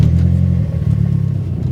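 A Mazdaspeed 3 hatchback with its 2.3-litre turbo engine accelerates under load, giving a loud, steady low rumble from inside the car with no talking.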